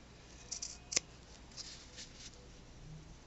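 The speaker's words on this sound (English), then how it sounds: "Okay, we're going to trim both of those threads." Scissors snip sewing threads on a handmade Valentine bag, producing a few quiet, crisp clicks close by, with one sharper snip standing out among the soft cuts.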